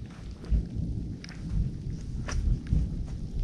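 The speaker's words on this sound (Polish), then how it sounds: "No i słychać, jak grzmi cały czas." Low rolling thunder rumbles steadily through a rainstorm, a deep continuous grumble with faint scattered patter and a few light knocks on top, no talk.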